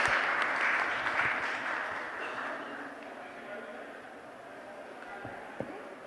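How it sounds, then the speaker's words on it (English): An audience claps at a poetry reading, a dense burst of applause that starts strong and fades over several seconds, with a voice speaking over it. "Yes, we can clap."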